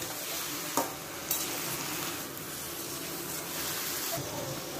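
Chichinga (ridge gourd) curry with water added is stirred in a pan, giving a continuous soft, wet sizzle and bubbling with a couple of sharp utensil scrapes against the pan.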